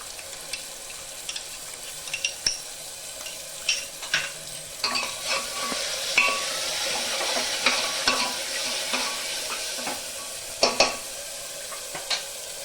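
Soaked ground spices, including Kashmiri chilli powder, sizzle in a hot pan for rajma masala. A steady frying hiss runs throughout with scattered scraping stir strokes and sharp crackles, fairly close and without talk.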